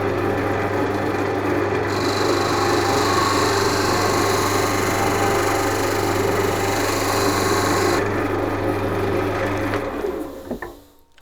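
Skew chisel point tidying an edge on a spinning wood lathe, a steady motor hum with a scraping, hissing cut layered on top for several seconds before the machine winds down near the end.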